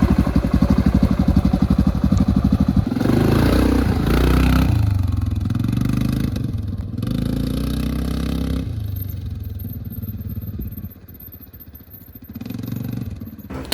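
An ATV engine runs out in the desert, starting with a loud, rapid idling putter that shifts into rougher revving and rumbling, then eases to a lower drone as the bike moves.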